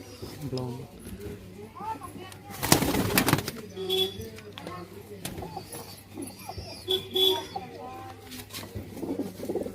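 Pigeons from across the Pakistan border coo softly and intermittently close by while someone talks over them, with a brief rustle of flapping partway through.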